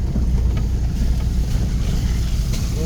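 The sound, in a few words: off-road vehicle driving through a shallow water crossing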